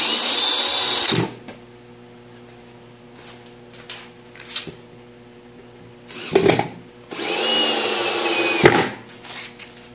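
A power drill drives screws to fasten a wooden DIY tool stand to its base, with a high whirring burst at the start and two more loud runs near the end, separated by quieter handling and clicks.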